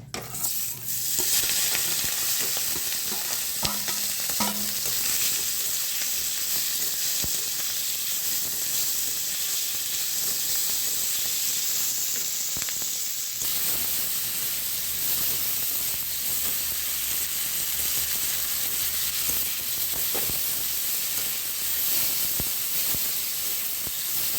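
Prawns rubbed with salt and turmeric fry in hot oil, giving a continuous, even sizzle up close with a few utensil clinks near the start.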